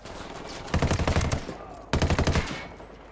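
Automatic rifle fire in the video game Ghost Recon Wildlands: two rapid bursts of repeated shots, the first longer and the second shorter, sharp and fairly close over a quiet background.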